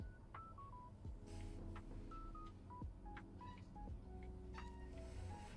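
Cat meows drift in and out over a steady room hum, with several short tonal calls spread across the stretch, moderately close and alone without talk.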